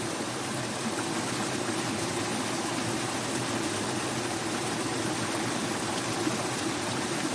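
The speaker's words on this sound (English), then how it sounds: "listen to the sound of the water" Water rushes steadily over and between rocks in a mountain gorge riverbed, a dense, even, close-up hiss with no pauses and no voices.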